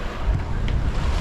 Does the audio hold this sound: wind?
yes